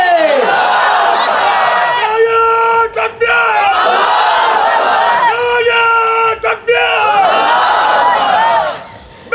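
A large crowd roars the takbir cry in unison, loud bellowed shouts repeated in three long waves with brief gaps between them, voices overlapping with a chanting, rallying force.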